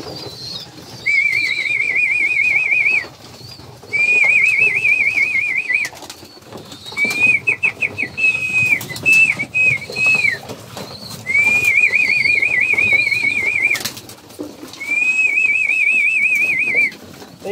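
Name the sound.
person whistling to call pigeons home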